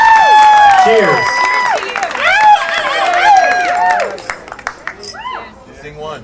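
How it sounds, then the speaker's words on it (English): Wedding guests cheer for the newlyweds with loud whoops, whistles and clapping that surge at first, then thin out and fade toward the end. "A big round of applause, everyone. Let's hear it one more time for the newlyweds."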